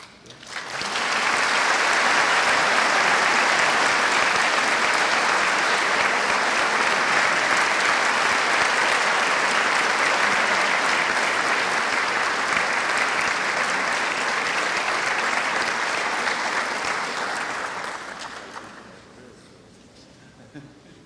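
An audience at a graduate commencement applauds an honorary degree recipient with loud, sustained clapping in a large hall that lasts around eighteen seconds before fading out.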